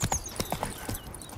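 Roach, the horse in The Witcher 3, clops along in a quick run of hoof strikes, fairly faint, with a brief voice in the game.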